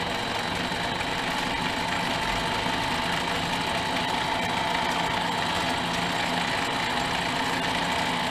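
A mini lathe running while cutting metal, with the tool kept moving and oil flowing: a steady, loud mechanical hum with a faint whine throughout, continuous and close.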